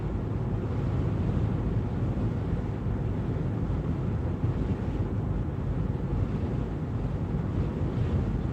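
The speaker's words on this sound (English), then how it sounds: "Man, you can feel that wind. It's wanting to blow everything around." Strong, gusty wind on a wind-advisory day blasts across an outdoor microphone, producing a loud, continuous rumbling roar with no letup and no talk.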